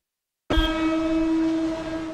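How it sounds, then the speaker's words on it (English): A Mumbai suburban commuter train sounds a loud, sustained horn that starts abruptly and holds a steady tone for nearly two seconds, close and alone without any talk. "These trains are Mumbai's lifeline."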